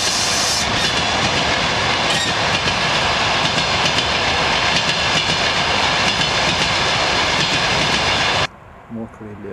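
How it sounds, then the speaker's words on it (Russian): Two trains, one blue and one green, pass each other near a forest by the Darnytsia river in Kyiv, a loud continuous rushing rumble with clattering wheels that cuts off abruptly near the end. "Встреча двух поездов."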